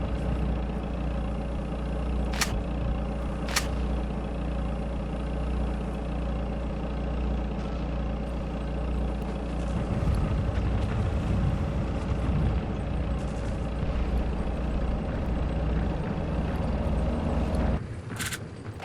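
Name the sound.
vehicle engine approaching in Sniper Elite video game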